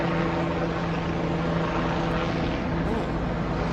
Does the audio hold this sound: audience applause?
no